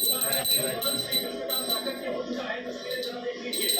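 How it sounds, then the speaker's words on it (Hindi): A small hand bell rings repeatedly, bright and ringing, during a Janmashtami home worship, while voices talk over it in the background. "घंटी बजानी है।"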